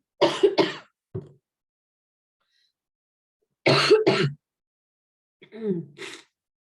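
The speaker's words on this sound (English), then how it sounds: "That was not COVID. That was just a cough." A few sharp coughs and throat-clearing bursts close to the mic, in two separate clusters with silence between them, followed by a softer rasp.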